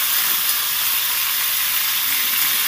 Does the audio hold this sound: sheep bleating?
no